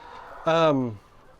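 A single egg-laying hen on pasture lets out a loud, close, drawn-out squawk lasting about half a second, sliding downward in pitch and then fading, with quiet surroundings before and after.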